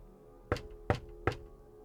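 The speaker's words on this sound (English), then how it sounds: "The knocking came from the outside" Three heavy, deliberate knocks on a floor-to-ceiling airport terminal window at night, evenly spaced, each a sharp thump with a brief ringing tail against a quiet, empty background.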